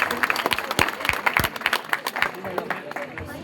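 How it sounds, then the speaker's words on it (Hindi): Audience members at Shakuntala Mishra University clap in an uneven patter of distinct, sharp claps, with voices murmuring underneath. "सभी जोरदार तालियां बजाएं।"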